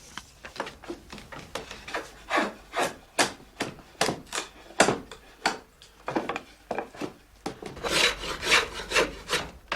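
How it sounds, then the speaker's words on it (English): Rough dressing of wooden hurley staves clamped on a shaving horse: a steady run of rasping, scraping shaving strokes in an even rhythm, close and fairly quiet, with no talk. "He finishes the rough dressing of the staves on the mare."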